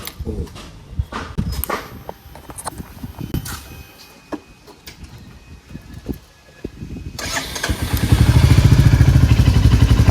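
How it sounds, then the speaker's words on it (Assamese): A Royal Enfield Hunter 350 motorcycle is cold-started: scattered clicks and clatter come first, then the engine catches and settles into a steady, loud, thumping idle close by. "আপোনালোকে সদায় ক'ল্ড ষ্টাৰ্টটো দিবই কাৰণ বাইকৰ মেইন বস্তুটো হৈছে ক'ল্ড ষ্টাৰ্ট"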